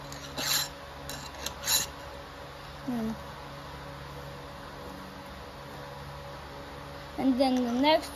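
A hand file rasps across a worn chainsaw chain in a few short strokes, with quiet gaps between them, over a steady background hiss while someone speaks briefly.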